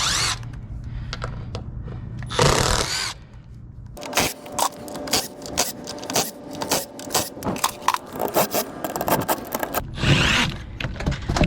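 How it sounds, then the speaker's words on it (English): A power drill whirring and grinding in repeated short bursts against aluminum scrap hardware, with scraping and clunks between passes, close and loud. "I already had the drill out."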